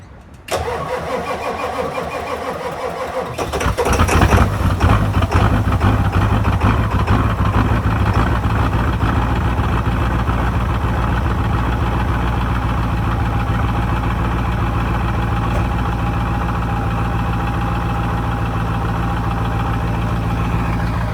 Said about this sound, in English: So you guys enjoy this cold start.